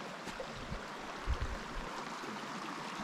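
Flowing stream water along a backpacking trail in the San Diego mountains between Mt Laguna and Cuyamaca Rancho, a steady broadband rush heard close and alone with no talking.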